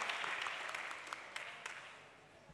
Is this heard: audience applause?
yes